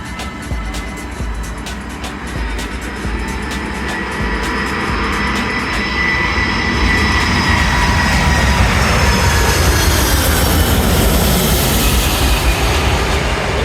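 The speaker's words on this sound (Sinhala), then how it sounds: "Queen of the Sky නැත්නම් Boeing 747. දැන් ඉතින් මේ කටුනායකට ලෑන්ඩ් කරන්න එන්නේ." A Boeing 747 coming in to land at Katunayake airport, a loud, sustained jet roar that swells and fills the scene, heard from nearby with no talking.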